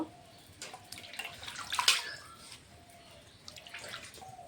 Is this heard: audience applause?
no